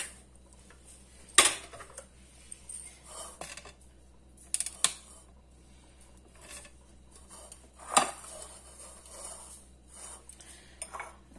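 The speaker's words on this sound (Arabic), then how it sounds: "كناخذوا الكوكوط ديالنا" A cocotte cooking pot is handled in a home kitchen before meat and onion go in, giving scattered metallic clinks and knocks, with louder clanks near the start and again later amid quieter rattling.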